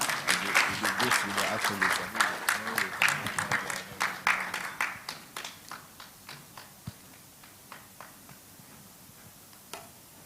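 An audience at an investment meeting in Germany claps in a welcome for a board chairman, a fairly close, rhythmic burst of handclaps that slowly fades into sparse, isolated claps, with faint voices underneath.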